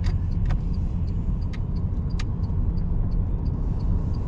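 An automatic car on a driving test pulls away from a stop, its engine and road noise forming a steady, moderately loud rumble heard from inside the cabin, with faint ticking clicks on top.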